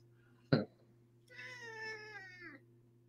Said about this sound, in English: Who was that? The cat.